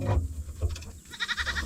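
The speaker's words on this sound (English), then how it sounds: "The goat's laughing at me." A goat bleats near a workshop where an excavator (Case 170B) is being repaired: a few loud, wavering nasal cries at the start and a sustained quavering bleat at the end.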